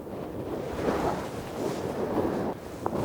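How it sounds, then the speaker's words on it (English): Strong wind buffets a golf course at St Andrews, roaring in a dense, continuous rush that swells and eases across the clip, with heavy gusts hitting the microphone up close. "That is how windy it is out here today, folks."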